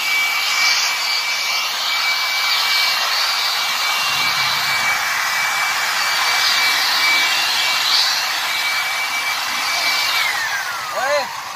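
Compressed air blasting dust off a Honda City diesel engine during a full service, a loud continuous hissing roar held for about ten seconds, with a voice speaking near the end.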